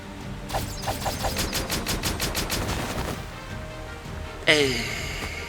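A firing squad's gunfire volley in the Octopath Traveler video game: a rapid, loud burst of many overlapping shots for a few seconds, fading out, then a sharp crash near the end.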